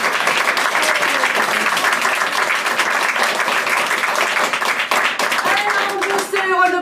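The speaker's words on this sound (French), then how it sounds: "Je vous demande d'applaudir bien fort Satine." Loud, sustained applause from a theatre audience at a live show in Aix-en-Provence, dense clapping filling the whole stretch, with a voice speaking over it and a few musical tones entering near the end.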